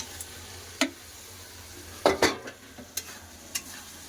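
Fried potato and cauliflower stirred into a spice masala in a pan: quiet low sizzle broken by a few sharp spoon scrapes and knocks, scattered and irregular, with no talk.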